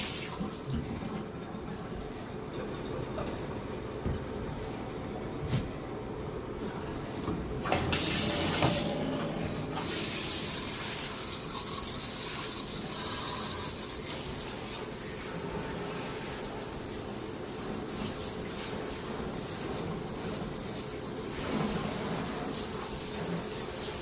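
Tap water runs steadily into a bathroom tub or sink, a continuous close splashing wash with a brief louder gush partway through, no talking over it.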